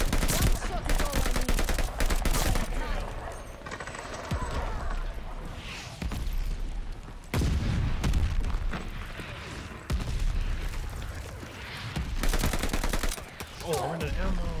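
Gunfire in the video game Call of Duty: Vanguard, with repeated bursts of automatic fire and sharp booming shots coming in clusters that are separated by short lulls, loud and close.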